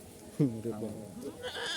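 Castrated male goats bleat at a livestock sale, one clear wavering bleat standing out near the start, with faint farmyard noise and other animal calls after it.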